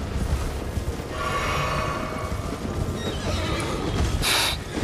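Horses neighing in the video game Elden Ring, a loud whinny rising over clip-clopping hooves and rumbling background noise, followed by another shrill neigh near the end.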